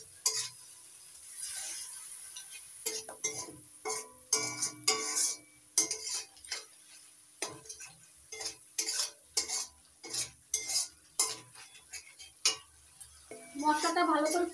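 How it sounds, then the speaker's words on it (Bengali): Masala for an egg and eggplant curry being sautéed with a little water, a spoon scraping and clinking against the pan in quick irregular strokes over a faint sizzle. "অল্প অল্প জল দিয়ে মশলাটা কষিয়ে নেব"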